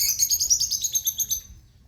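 A caged lovebird gives a quick run of bright, high chirps for about a second and a half. The chirps are close and clear, then fade out.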